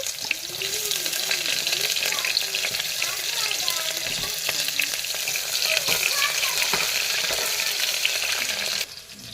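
Onions sizzle and spatter steadily in a hot pan while a local chicken curry is being cooked, a bright continuous frying hiss with occasional stirring clinks throughout.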